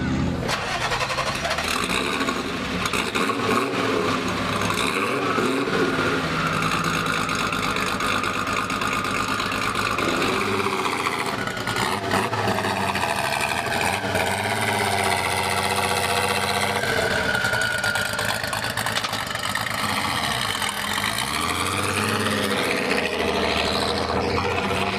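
Twin-engine car with about 1600 horsepower running with only its front motor started, a loud continuous engine drone with shifting pitch, steady throughout, while people talk over it.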